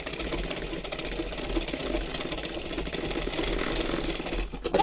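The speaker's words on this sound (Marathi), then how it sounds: "आता आपली पूर्णपणे स्टिच मारून झाली आहे." A sewing machine runs steadily and fairly loud, stitching a baby's petticoat in one continuous whirring, rattling run with no voices.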